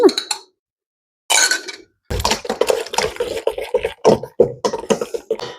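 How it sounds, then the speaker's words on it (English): Banana bread batter being roughly mixed in a bowl, with clinking and scraping strokes in irregular bursts, close and fairly loud, separated by a short pause. "just kind of rough mixing that together, not mixing it too much"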